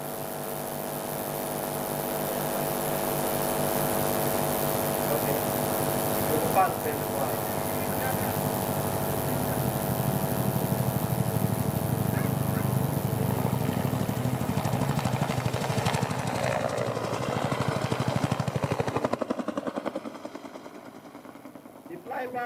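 A Bell Huey military helicopter passes at a Nigerian Army Day display, its steady rotor drone and hum holding loud for about twenty seconds before fading, with an announcer talking over it throughout.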